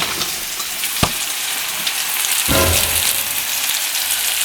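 Food cooks in a pan with a steady crackling sizzle, broken by a sharp clatter and a short scraping stir, with no talk.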